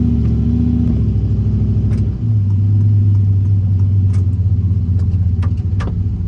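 A Chevy pickup engine, fitted with a hydroboost brake conversion, revs hard against the brakes up to about 3,500 RPM, a loud, steady close-up roar that drops and settles into a sustained, rumbling drone.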